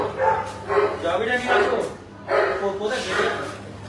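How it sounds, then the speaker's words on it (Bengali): Dogs kept inside a house bark and yip in repeated bursts, fairly close, mixed with people talking over them. "এর ভেতরে এখানে কুকুররা থাকে"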